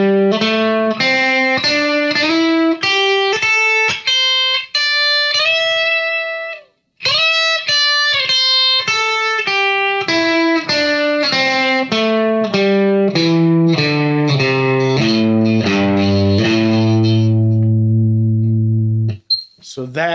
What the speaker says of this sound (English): So that is the minor version of the instant rockstar scale, or the minor pentatonic scale.